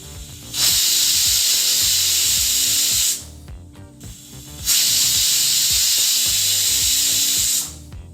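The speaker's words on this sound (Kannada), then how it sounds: "ಈಗ ಕುಕ್ಕರ್ 2 ವಿಸಲ್ ಬಂದಾಯಿತು." A pressure cooker cooking toor dal whistles twice in loud, sustained hissy blasts of about two and a half seconds each, separated by a short gap of kitchen clatter and rattling.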